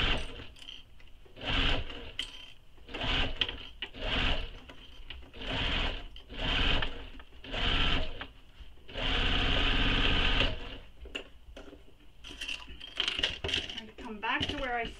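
A sewing machine stitches a crossbody bag in several bursts of rapid, rattling needle action, each run a few seconds long with short pauses between, loud and close, with small clicks and handling noises in the gaps.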